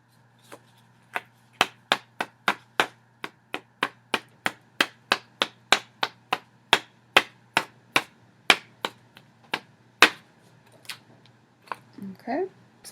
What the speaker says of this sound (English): with the acetate, it allows me to kind of tap off the excess.